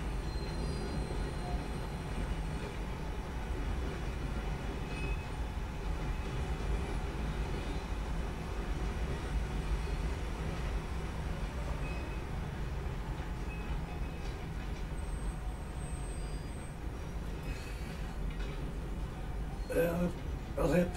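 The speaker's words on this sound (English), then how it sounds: "I've never taken a full train ride around from San Denis, but this is pretty cool." A train in the video game Red Dead Redemption 2 rolls along the tracks from Saint Denis, a loud continuous rumble and clatter of wheels that carries on steadily, with brief wheel squeals near the end.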